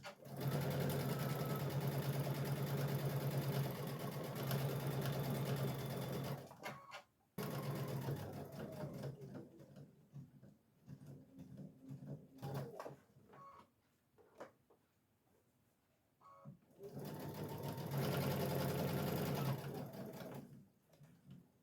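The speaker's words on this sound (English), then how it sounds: "only sew as fast as you feel comfortable sewing" A sewing machine stitches a pillowcase in two loud, steady runs at the start and end, separated by a quieter stretch of faint handling noises.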